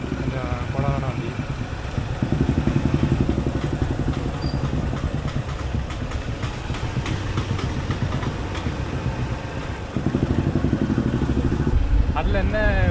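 A motorcycle engine runs steadily close by for the whole stretch, a rough continuous drone that rises in level at a couple of points, with people talking over it.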